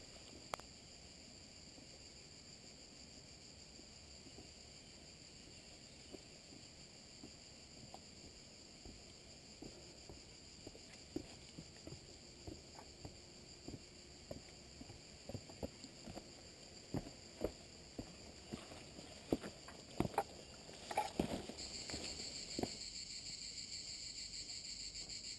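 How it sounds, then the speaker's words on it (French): Cicadas singing along a walking route near Céret, a steady high-pitched drone running through the whole stretch, with faint footsteps and light rustling growing louder toward the end. "c'est avec ce chant des cigales hein, qui nous a suivi quasiment les 3/4 de ce beau parcours"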